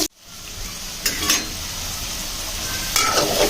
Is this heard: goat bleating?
no